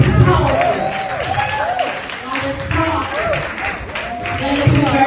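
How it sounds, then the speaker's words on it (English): An audience at a media event gives a round of applause, a steady wash of clapping lasting several seconds with voices and a loud hall ambience mixed in. "Let's give her a round of applause"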